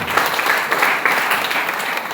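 An audience at a business income presentation claps in a dense, continuous burst of applause, fairly loud and close, with no talk over it.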